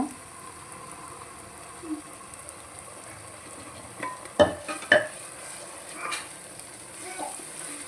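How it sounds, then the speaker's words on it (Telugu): Tomato puree fries with brinjal masala in oil, a low steady sizzle with a couple of sharper stirring scrapes midway and a faint voice in the background. "టమాటా ప్యూరీ కూడా మంచిగా ఆయిల్ వేలే వరకు బాగా వేయించుకోవాలన్నమాట"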